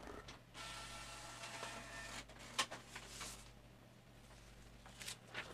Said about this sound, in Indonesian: Dan di situ printer bekerja.